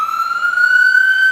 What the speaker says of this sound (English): We've got sirens coming.